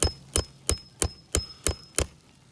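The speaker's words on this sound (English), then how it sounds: "And I just want to hammer it just enough" Seven evenly spaced hammer taps on a roof shingle nail, about one every third of a second, close and sharp with a faint steady tone behind them.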